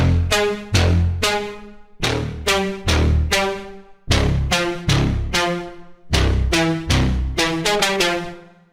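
A big, bright synth lead preset from a slap house sample pack plays a punchy rhythmic riff of repeated plucked chords with quick decays, loud and up front with no voice over it.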